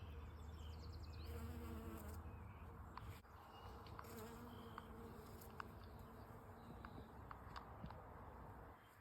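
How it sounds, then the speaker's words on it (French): Bees buzzing as they forage on flowers outdoors, a steady soft drone with a few passes coming closer and fading, faint and continuous, with light rustles and distant sounds in the background. "les abeilles qui butinent de plantes"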